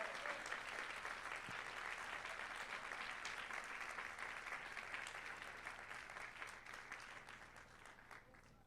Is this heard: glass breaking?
no